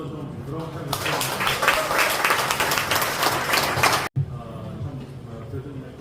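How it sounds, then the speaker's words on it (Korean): Audience applause fills a Korean Christian council seminar hall, a dense wash of clapping that swells for about three seconds and cuts off, with a voice talking over and after it. "박수 한번 좀 부드럽게 하겠습니다"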